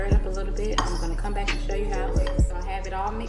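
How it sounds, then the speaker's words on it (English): Spoon scraping and clinking against a bowl while chicken stuffing is stirred, a few sharp knocks over continuous mixing, up close with talking and a steady background hum. "So I'm going to show you once I stir it up a little bit."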